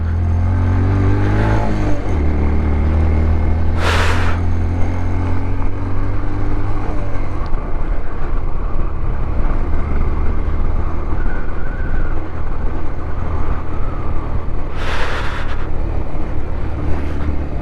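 A car engine labours up a bumpy high mountain road toward Umling La in Ladakh, a low steady drone with loud gusts of wind buffeting the microphone and a couple of brief sharp bursts, no talking.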